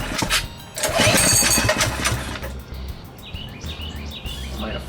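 Modified KT196 go-kart engine being started, with bursts of pull-start cranking and sputtering up close, then a quieter stretch where birds chirp in the background.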